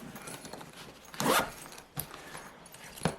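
A quick zipper pull on an Aerocoast Jetpack 1 backpack's main compartment rasps once up close, followed by a couple of soft rustles and clicks in a quiet room.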